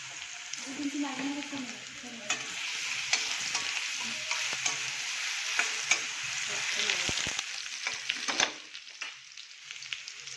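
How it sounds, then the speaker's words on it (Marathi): Garlic sizzles in hot oil in a pan, with chicken cooking alongside, a steady close crackle broken by scraping and clinking as it is stirred, while someone speaks softly over it. "आपण आता लसूण घालून घेणार आहोत फोडणीसाठी थोडंसं."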